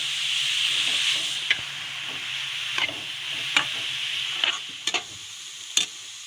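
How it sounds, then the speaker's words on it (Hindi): Grated carrots sizzle steadily in hot ghee with cardamom powder in a pan for carrot halwa, a broad continuous frying hiss broken by a handful of sharp scrapes and clicks from stirring, close and without speech. "घी गरम हो गया, इसमें मैं इलायची पाउडर डाल दूंगी। गाजर डाल दूंगी इसमें।"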